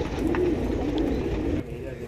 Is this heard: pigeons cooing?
yes